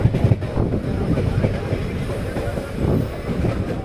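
A train runs steadily on the rails as it arrives at Merta Road Junction, with a dense, continuous rumble and faint rhythmic wheel clatter heard from close by.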